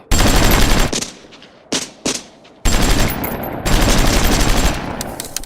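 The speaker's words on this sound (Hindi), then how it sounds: "Cover fire. मेरे कहने पर गोली चलाना।" Rapid bursts of automatic gunfire roar loudly, broken by a short lull with a few single shots, then resume in sustained volleys.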